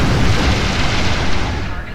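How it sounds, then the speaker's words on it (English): Defensive cannons fire in the space game Star Trek Online, producing a loud, dense, sustained boom that fills the moment with heavy rumbling energy and no clear breaks. "Powered up defensive cannons and launched small craft."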